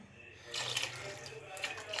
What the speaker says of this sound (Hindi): थोड़ा सा पानी और डालेंगे हम